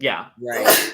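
A single sharp sneeze bursts out close and loud in a casual chat between a couple of people, with talk just before and right after it.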